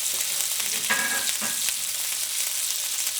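Onions added to a wok with meat for yakisoba sizzle in a bright, constant hiss, with a couple of brief stirring scrapes partway through and no talking.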